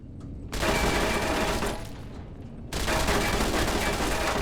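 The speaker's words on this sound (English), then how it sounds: "it's turrets on the ceiling. I thought it was the fella on the ground that was shooting us" Ceiling-mounted turrets in Fallout: New Vegas fire long, dense bursts of rapid automatic gunfire. Two loud sustained volleys are broken by a brief, slightly quieter gap.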